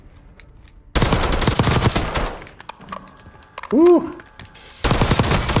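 Rapid automatic gunfire rings out on the firing range in Call of Duty Warzone, with loud bursts at the start and end and a short whoop from a player in between.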